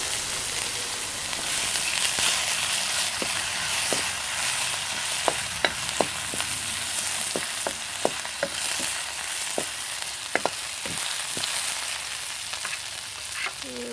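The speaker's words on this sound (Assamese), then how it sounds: "এতিয়া ভাজিম গাহৰি মাংস" Pork sizzles steadily in a pan with garlic, ginger and onion, a constant close frying hiss broken by scattered sharp crackles and pops.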